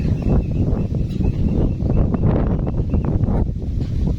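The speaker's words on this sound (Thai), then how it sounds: "ลมหนาวหนาว" Cold wind buffets a microphone outdoors, a loud, continuous low rumble that gusts unevenly throughout.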